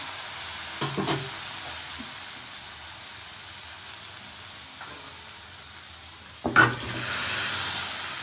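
Spices for shukto curry fry in a pan: cumin seeds, green chili, bay leaf, and ground coriander and cumin. A soft steady sizzle runs throughout, broken by a few brief stirring scrapes, the last one louder.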